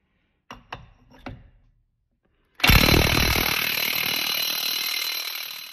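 Impact gun with a 36 mm impact socket on the rear axle nut of a Porsche 924, a few tool clanks, then a loud sustained rattling hammer of the gun close by.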